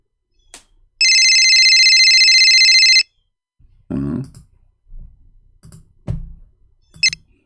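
A cell phone call ringing unanswered, a bright electronic ring tone held steadily for about two seconds, followed by scattered mouth and throat noises and soft clicks.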